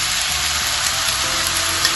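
Tomatoes and turmeric sizzling steadily in a hot pan for an Anglo-Indian kedgeree, a dense, even frying hiss throughout, close and loud with no talking.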